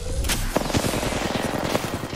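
Rapid automatic gunfire from the video game Apex Legends, in a fast, steady stream of close, loud shots with no talking.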